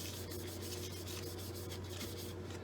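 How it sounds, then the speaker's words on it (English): Steady close scratchy rubbing as a wood and resin reel seat is hand sanded along the grain on a stopped lathe, with a constant low hum underneath and no talking. "sand with the grain instead of with the rotation"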